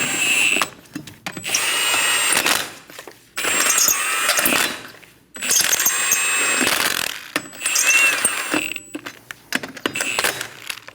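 A power tool runs down the wheel lug nuts on a 2008-2015 Scion XB, whirring loudly and close in several long bursts separated by short pauses.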